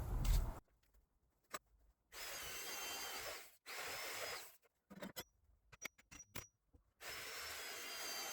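A power drill driving into retaining wall timber, with several separate bursts of whirring alternating with silence and a few knocks, close and fairly loud, and no talking.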